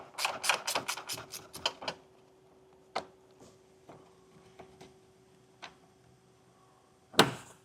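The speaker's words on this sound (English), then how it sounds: "we'll just get our wrench up in there and get those taken off" Wrench ratcheting on the center bolts inside an opening while an EcoHitch hidden front mount trailer hitch receiver goes in, a quick run of close clicks followed by sparse single ticks and a louder clunk near the end, with no talking.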